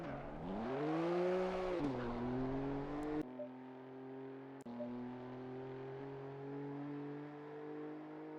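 A BMW M2 race car engine in a racing game at the Nürburgring Nordschleife's Karussell section holds a loud, close, harmonic drone. The pitch climbs, dips briefly, then settles into a long steady pull with one short cut in the sound.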